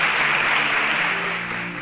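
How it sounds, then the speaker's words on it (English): Brief, loud applause rises as contestants on a televised talent competition leave the stage, a dense wash of clapping that holds steady with a faint musical tone underneath. "A round of applause for them as they exit the stage"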